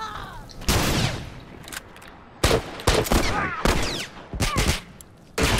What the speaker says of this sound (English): Someone shot me from distance.